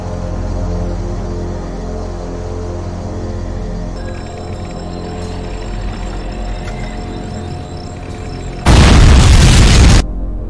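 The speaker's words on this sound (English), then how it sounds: "Did the explosion slow them?" An explosion in a Terminator fan film hits as a sudden, loud, broadband blast lasting over a second. Before it, a low droning hum and faint electronic tones hang in the background.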